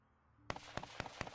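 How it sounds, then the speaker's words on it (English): Gunfire in the Project Zomboid zombie survival game: after a quiet moment, four sharp, evenly spaced cracks ring out, sounding like shots from somewhere outside. "We got gunfire outside."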